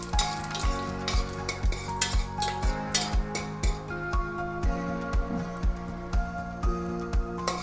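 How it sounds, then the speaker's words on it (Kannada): Mushrooms frying on a medium flame in a pan, loud sizzling broken by a quick rhythm of metal spoon strokes scraping and clinking against the pan, close up with no talk. "ಇದನ್ನು ಮೀಡಿಯಮ್ ಉರಿಲಿ ಇಟ್ಕೊಂಡು ಫ್ರೈ ಮಾಡ್ಕೊಳ್ಳಿ, ಯಾಕಂದರೆ ಇದ್ರದ್ದೆಲ್ಲ ರಸ ಇದು ಬಿಟ್ಕೋಬೇಕು"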